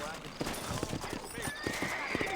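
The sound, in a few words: horses in the video game Red Dead Redemption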